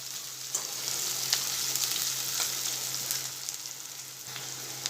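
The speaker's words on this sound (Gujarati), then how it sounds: "આપણે કાંદાને આ રીતે થોડી વાર સાતળી લઈશું।" Onions sauté in a pan on a gas stove, a steady, close hiss of frying with a few faint scrapes and ticks, no voices.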